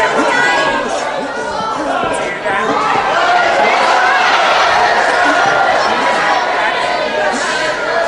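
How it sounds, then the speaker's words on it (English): Crowd at a 1977 boxing match shouting and chattering continuously, loud and close, with a commentator talking over it. "I don't know what the crowd are shouting about."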